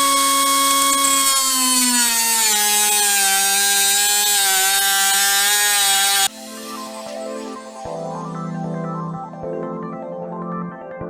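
A power tool cuts metal on a 1997 Ford Thunderbird Super Coupe, a loud sustained whine that gradually drops in pitch, then breaks off into rougher, uneven grinding with a few sharp knocks.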